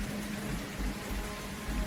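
Heavy driving rain falls steadily, a dense even hiss of drops on surfaces with a low rumbling undertone, moderately loud and alone.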